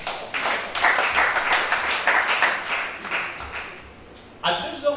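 A congregation applauds at a night prayer vigil, a sustained burst of crowd clapping that fades before a voice speaks near the end.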